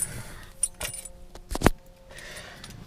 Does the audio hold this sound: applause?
no